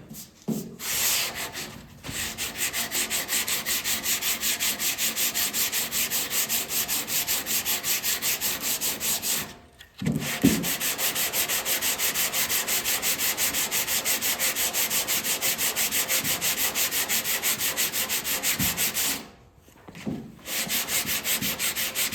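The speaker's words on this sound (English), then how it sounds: "we sand most of the filler out that we apply" Body filler on a car panel is sanded by hand in long steady scraping strokes, loud and close, with two short pauses between runs.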